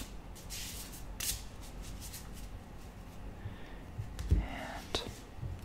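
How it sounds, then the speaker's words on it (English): Large tarot cards being shuffled close up in a quiet room, soft papery riffles and slides in irregular bursts with occasional taps, faint and intimate. "I'm going to give the cards a little bit of a shuffle."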